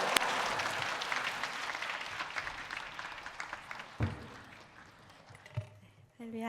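A church congregation claps to welcome a pastor to the pulpit, a broad burst of applause that gradually thins and fades before a voice begins speaking at the end.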